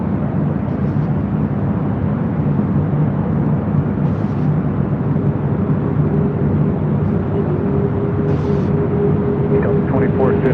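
An Emirates airliner takes off from runway 24 left at LAX. A broad, steady roar of jet engines holds throughout at a moderate distance, while a radio voice speaks over it.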